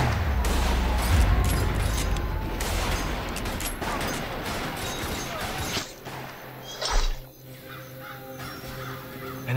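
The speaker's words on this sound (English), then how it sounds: "Someone gave the order to open fire." Volley of gunfire as soldiers open fire in a drama scene, a rapid cluster of loud shots over several seconds, with crows cawing and flapping amid the commotion before it thins out.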